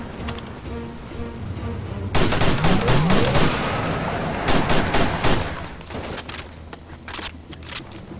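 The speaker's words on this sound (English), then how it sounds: "Yeah, here we go. Shotgun." Shotgun blasts in the video game Far Cry 2, a run of loud sharp booms in quick succession with a brief pause, over steady game ambience.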